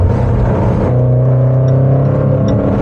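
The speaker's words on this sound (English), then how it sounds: "the response from the supercharged engine is something to be experienced" A supercharged 550-horsepower Jaguar F-PACE SVR engine revs and pulls hard with a steady, loud droning whine, pitch rising smoothly as it accelerates up close on a public road.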